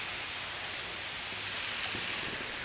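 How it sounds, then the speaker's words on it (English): Heavy rain falling outside during work on a jon boat: a steady, even hiss of rainfall throughout, fairly quiet, with a faint tap or two and no talking. "Well, it's raining like crazy"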